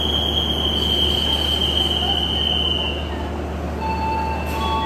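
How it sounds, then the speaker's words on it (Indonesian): The Ciremai passenger train runs through a station on track 2 without stopping, a loud steady rumble of rolling cars with high metallic wheel squeal on top, up close and continuous. "segera masuk kereta api Ciremai"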